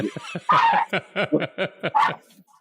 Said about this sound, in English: that's the ferocious attack dog